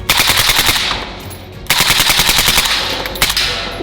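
Loud close automatic gunfire from a rifle at a shooting range, fired in two sustained rapid bursts separated by a brief pause, with a few trailing shots at the end.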